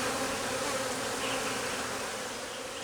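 Aggressive honey bees swarming around an open hive, a dense, continuous close buzzing hum with no pauses.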